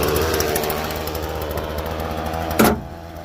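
Small petrol engine on a post-and-rail fencing machine, running on full choke with a rough, buzzy, chainsaw-like drone that cuts off abruptly after a brief loud burst near the end.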